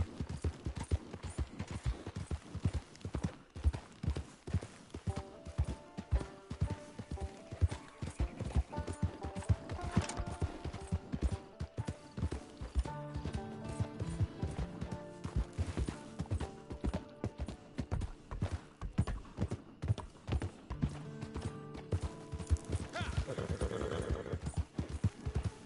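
Horse hoofbeats from riding in the video game Red Dead Online, a steady rapid clip-clop gallop running throughout, close and prominent, layered over a game music score with tonal melodic lines.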